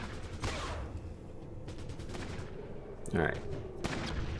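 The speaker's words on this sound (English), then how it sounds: "I want him to just start firing this way." Gunfire from the tactical game Fallout Tactics: a few scattered shots and short bursts over a steady background, moderately loud, with one sharper, brighter burst near the end and someone speaking briefly.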